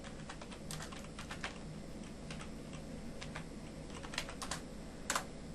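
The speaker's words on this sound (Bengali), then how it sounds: "আমরা একটি কিওয়ার্ড লিখে সার্চ দেব ফেসবুক মার্কেটিং।" Someone types a search keyword on a computer keyboard, a steady run of light, quick key clicks with a few louder taps, close and alone in a quiet room.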